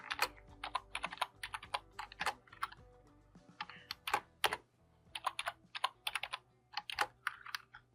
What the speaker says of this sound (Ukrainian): Я для одного відступу натискаю клавішу Tab. Далі запишемо Tag Title